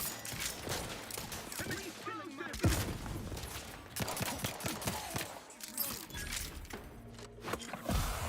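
Gunfire in The Outer Worlds 2 video game, with repeated punchy shots, bursts and thuds over game music and ambience, and someone talking over the action.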